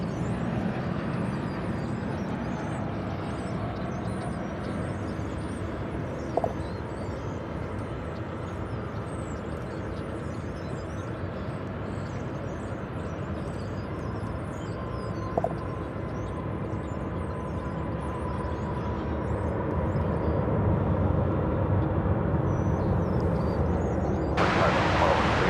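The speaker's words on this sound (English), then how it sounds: "That was American Flight 604 coming in from McAllen, Texas." American Flight 604, an airliner arriving from McAllen, Texas, lands at DFW airport with a sustained broad engine rumble and roar heard from a distance, steady for most of the span and swelling slightly toward the end.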